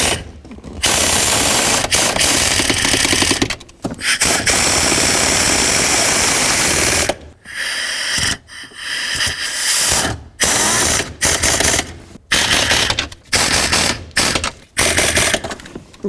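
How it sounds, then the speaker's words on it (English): An air impact gun, turned down to low force, tightens bolts on a 1997-2003 Ford F-150 during shifter tube bushing work, firing in loud, close bursts of rattling hammering with brief gaps and quick stuttering pulses toward the end. "I turn my air gun all the way down so it doesn't have a lot of force"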